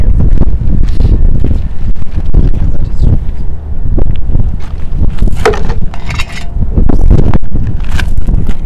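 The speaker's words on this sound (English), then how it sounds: "So it's pretty windy up here," Strong wind buffets a microphone on a rooftop at an urban beekeeping site, loud continuous gusting roar with a few faint knocks and thuds behind it.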